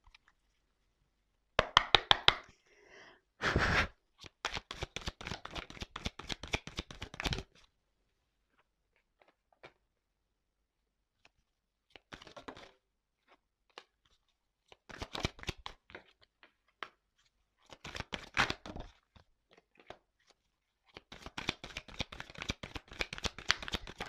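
Tarot-style cards handled and shuffled on a table at close range, in several quick bursts of riffling and slapping separated by quiet pauses, with no talking.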